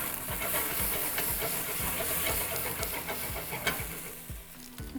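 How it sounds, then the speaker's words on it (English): Cognac or brandy flambéed in a pan beside browned meat: a continuous close hiss and sizzle with soft crackles and the occasional clink of a utensil, no voices. "we're gonna flambe cognac or brandy"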